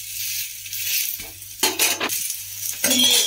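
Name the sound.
flipping ragi dosa on the pan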